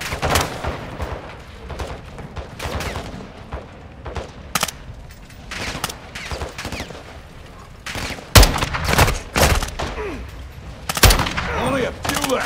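EDR marksman rifle fire in the video game Call of Duty: Modern Warfare II: sharp, close single shots in irregular bursts, the loudest cracks late on, over a busy bed of battle noise, mechanical clicks and faint murmuring voices.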